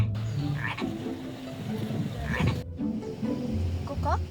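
Frogs croaking in a steady outdoor chorus, with repeated rough calls close by and several more calls layered underneath, no talking.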